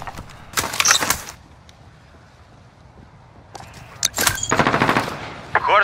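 Gunfire from a VTOL gunship in Call of Duty: Modern Warfare comes in two loud rattling bursts, a short one early and a longer one near the end, with a quiet stretch between them.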